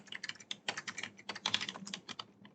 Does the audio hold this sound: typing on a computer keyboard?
yes